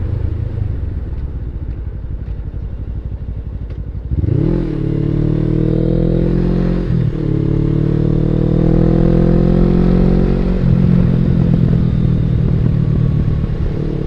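A Suzuki SG500 motorcycle is ridden with a loud, close engine drone that rises as it accelerates through the gears, with brief dips at each shift and constant wind rumble.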